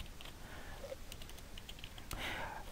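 Someone types on a computer keyboard in quick, light bursts of key clicks, quiet and close, in an otherwise still room with no speech.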